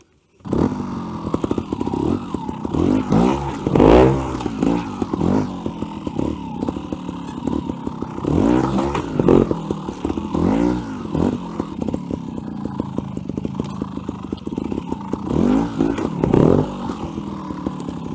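A trials motorcycle engine revs in repeated bursts, close and loud, rising and falling as the bike is ridden over a log in a workshop setting, with some clatter between throttle blips and no talking.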